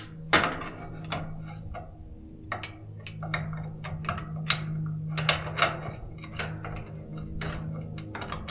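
Metal clicks and ratcheting ticks from a wrench tightening nylon lock nuts while mounting a Rough Country 9,500 pound winch on a trailer, irregular taps and short ratchet bursts over a low steady hum, fairly close.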